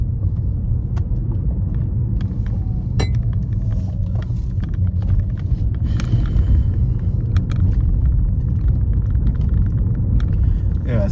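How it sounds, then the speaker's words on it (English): A car drives along a narrow, tight road, its engine and tire rumble low and steady from inside the cabin, with occasional clicks and knocks over the continuous road noise. "I'm driving my car at the moment"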